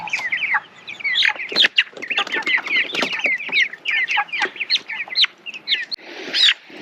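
Broiler chickens being carried from a brooder into an outdoor chicken tractor cluck and chirp continuously, a busy close chorus of short agitated calls with occasional handling bumps.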